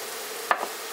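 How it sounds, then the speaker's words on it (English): Four minced garlic cloves drop into melted butter in a pan, a faint steady sizzle with a short burst of spatter and stirring midway through the second. "our butter has melted, so let's throw in our garlic"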